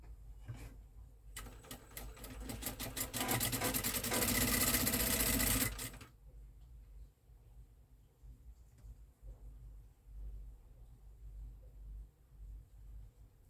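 A sewing machine stitches a seam in fabric, its rapid needle chatter running loud and steady for about four seconds after a brief start, then stopping, leaving faint low room hum with no talking.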